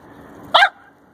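Single sharp bark from Caesar, a dog outdoors at home, loud and close, standing alone against quiet background noise.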